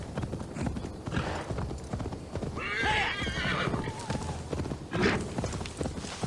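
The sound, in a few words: horse galloping and neighing in video game Assassin's Creed Valhalla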